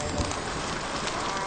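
Rain spell effect from the VR game Tethered, a steady broadband hiss of falling rain that fills the whole moment evenly with no voices over it.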